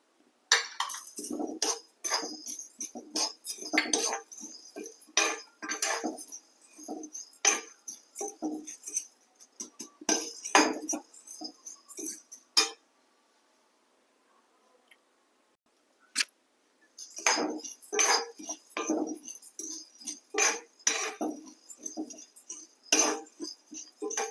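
Toor dal stirred while dry-roasting in a pan: steady, rapid scraping and clinking of a utensil against the pan, a pause of a few seconds, then the stirring resumes, close and moderately loud.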